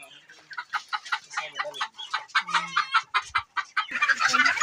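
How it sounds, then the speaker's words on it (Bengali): Several local free-range chickens cluck and squawk close by in quick, overlapping bursts, growing busier toward the end. "এগুলো দেশি মুরগি"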